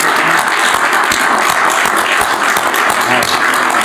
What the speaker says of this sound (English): we need to applaud you and thank you